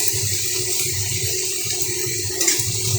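Water poured into a cooking pan while a dish is being fried, giving a steady broad splashing rush that runs for about three seconds without speech, with a brief louder surge near the end.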